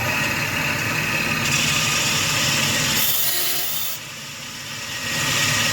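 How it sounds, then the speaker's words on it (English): A bench grinder works a 30-06 brass cartridge case being cut down for 257 Roberts: a steady, loud grinding whir with a shift in tone partway through, then a brief dip and a return of the grinding. "And then we take it to the grinder."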